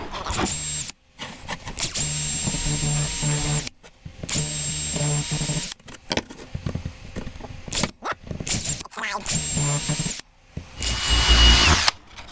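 Power drill fitted with a countersunk bit boring into scrap wood, heard as several loud, close bursts of whining motor and cutting, separated by short pauses, with a final harsher grinding burst.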